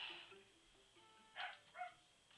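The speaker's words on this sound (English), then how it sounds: "And that was my dog barking" A pet dog barks twice in quick succession, short sharp yaps that sound faint and somewhat distant under a low background hum, with no talk.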